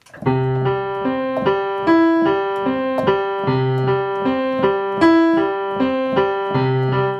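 Piano chords struck in an even, mechanical pattern, each block chord repeated at the same loudness and steady pace with no expressive variation.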